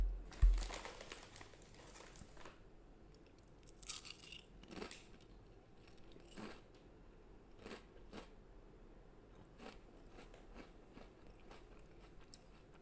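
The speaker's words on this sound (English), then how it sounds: "Can you hear me chewing the potato chips?" Potato chips being chewed close to a headset microphone, a run of sharp, irregular crunches and crinkly bites, loudest at the start and then quieter and scattered.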